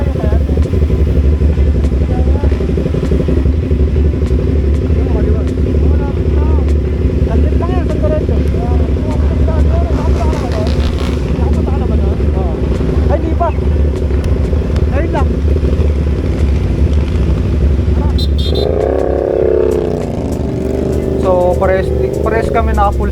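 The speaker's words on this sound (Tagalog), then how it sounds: "nag-iba na yung output sound ng motor natin kasi naka full system na tayo" CFMOTO 450SR motorcycle fitted with a full aftermarket exhaust system, a steady loud engine drone through most of the ride with brief revving near the end, while a voice talks over it.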